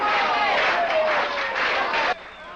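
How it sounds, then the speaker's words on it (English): A noisy, unruly crowd at a carnival roars in a steady, dense wall of shouting and clamor for about two seconds, then cuts off abruptly to a faint murmur. "The crowd's sounding pretty nasty."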